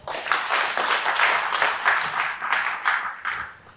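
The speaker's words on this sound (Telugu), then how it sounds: "కొట్టండి చప్పట్లు" Audience applause at a talk in Anantapur, a burst of many hands clapping in an uneven, pulsing rhythm, moderately loud and sustained for a few seconds.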